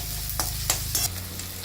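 Green chilli and a couple of broken dried red chillies fry in a pan for restaurant-style dal fry. A steady close sizzle runs throughout, with a few sharp stirring scrapes breaking through.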